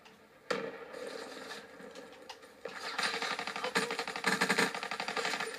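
Rapid automatic gunfire in Call of Duty Black Ops 3, an Xbox One shooter, starting with a single shot, then building into steady bursts of repeated shots that grow louder toward the end.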